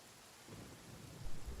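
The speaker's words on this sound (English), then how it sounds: "Just listen to and relax to the sound of rain." Rain falls steadily in the video game Genshin Impact while low thunder rumbles in softly and then swells louder toward the end.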